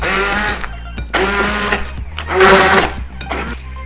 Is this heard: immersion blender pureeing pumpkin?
yes